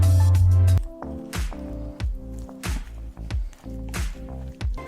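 Glowing oobleck slime is squished by hand in a series of wet, sticky squelches and drips, each press arriving in an uneven rhythm, loud and close with no talking.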